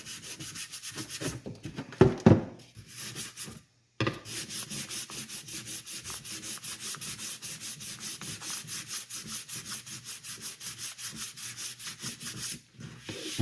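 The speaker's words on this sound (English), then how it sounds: "This one's just to buff out all the marks that the other sandpaper leaves on the helmet or the prop." Sandpaper rubs back and forth over a Boba Fett helmet prop in quick, even strokes, close and steady, broken by a brief pause and a couple of handling knocks early on.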